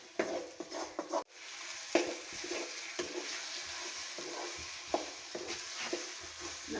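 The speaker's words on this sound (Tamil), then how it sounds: "அந்த எண்ணெயிலேயே நம்ம ஊற்றின எண்ணெயிலேயே இந்த முட்டை பொடி மாஸ் இது பண்ணிக்கலாம்." Beaten eggs sizzle softly in hot oil as a spoon stirs and scrapes them into a crumbly podimas, with steady frying hiss and intermittent clinks against the pan.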